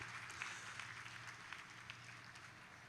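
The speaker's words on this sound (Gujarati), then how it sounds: "આપણે સૌ તાળીઓથી વગાડીશું." An audience claps at a temple consecration ceremony for a newly built Shree Shribai Mataji temple, giving faint, distant, scattered applause that continues steadily for a few seconds.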